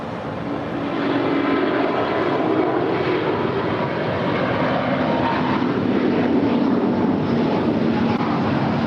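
SAS airliner at Los Angeles International Airport, a steady, loud jet engine roar holding throughout with broadband rumble and wind buffeting, no voices.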